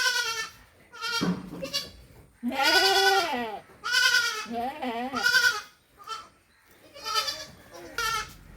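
Repeated bleats from a dairy goat with two kids, a series of strong, quavering cries spaced by short gaps, close by and loud, with several shorter, thinner calls between them.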